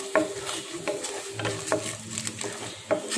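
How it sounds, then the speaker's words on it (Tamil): Chana dal and urad dal frying in a pan for idli upma, with a low sizzle under a few sharp clinks and scrapes of a spoon against the pan. "கடலைப்பருப்பு உளுந்தம்பருப்பு போட்டு"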